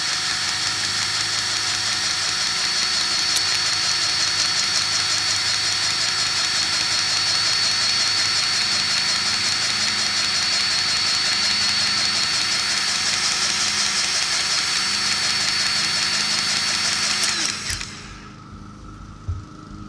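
Ryobi 18V cordless grease gun pumping grease, a loud, continuous motor whine close up that runs steadily for about seventeen seconds before cutting off abruptly into near silence.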